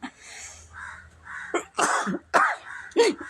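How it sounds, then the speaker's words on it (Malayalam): A woman coughs several times in short, harsh bursts, close and fairly loud, with a throat-clearing quality between them. "എന്തോ ചുമ വന്നിട്ടുണ്ട്"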